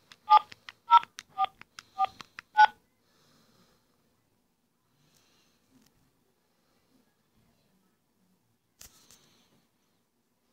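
Phone keypad tones punched in to enter a mobile number on an automated call-centre line: six short, evenly spaced beeps in quick succession, then near silence with a faint click later on.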